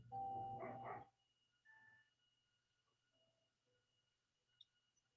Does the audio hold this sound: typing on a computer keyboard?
no